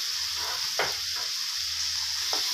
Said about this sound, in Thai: จากนี้ก็ผัดเลยนะครับผัดให้นัวๆเลยนะครับ